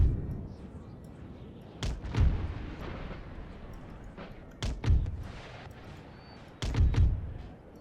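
Game 6-pounder artillery cannons firing in a battle in NTW3: three separate heavy booms spaced a few seconds apart, each a sharp crack with a low rumbling tail, over a steady background of battlefield noise.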